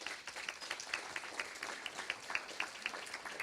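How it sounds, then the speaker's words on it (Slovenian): Audience applause at a business breakfast, fairly faint and distant, with steady rhythmic claps running evenly from start to finish. "aplavz si zaslužijo"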